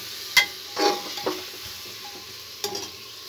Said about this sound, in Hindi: बैंगन भुन चुके हैं, फ्राई हो चुके हैं अच्छे से